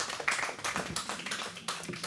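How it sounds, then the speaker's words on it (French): Applause from a small audience at a local investment awards prize presentation in Loiret, France: faint, scattered hand claps of uneven rhythm, some sharper bursts standing out, with no voices over them. "Je vous invite à remettre ce prix avec les applaudissements, évidemment."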